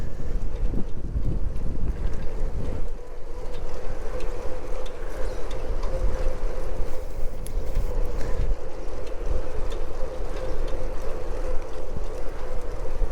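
Strong wind buffets the microphone outdoors in a continuous loud roar with gusty low rumbles, steady across the whole stretch.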